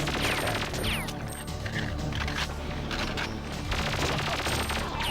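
Weapon fire in Perfect Dark, with a steady stream of sharp shots and crashing impacts under a busy game soundscape, loud and continuous without speech.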